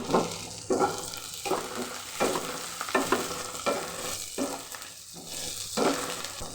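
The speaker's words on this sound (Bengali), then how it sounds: "পেঁয়াজ বেশি ভাজবো না পেঁয়াজ হালকা করেই ভেজে নিব" Steady sizzling of onions lightly frying in a pan with cinnamon and cardamom, with repeated bursts of stirring and scraping roughly every second, close and continuous.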